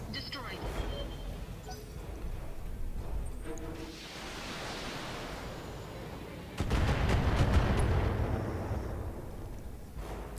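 Mech combat in a video game, with a Locust mech among the targets: heavy weapon fire and impacts crash against armor in noisy, booming bursts, swelling into a loud, dense barrage late on, with talk over the noise.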